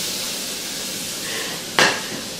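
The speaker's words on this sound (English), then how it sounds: "That's the perfect temperature for frying an egg." Soft, even sizzle of butter bubbling in a pan as an egg fries, broken by one sharp metallic clink near the end; no voices.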